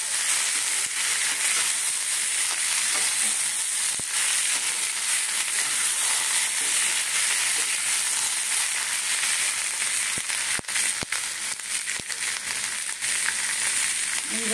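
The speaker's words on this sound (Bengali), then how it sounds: "সব একসঙ্গে ভাজা হয়ে যাবে।" Potatoes fry in a pan with garlic and white cumin, giving a steady, loud, hissing sizzle with scattered crackles and a few sharp pops throughout.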